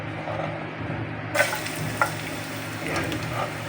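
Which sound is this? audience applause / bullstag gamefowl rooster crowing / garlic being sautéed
garlic being sautéed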